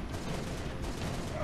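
Rapid bursts of gunfire in the video game Halo: Reach crackle in a dense, continuous stream, loud and close, with no talk over it.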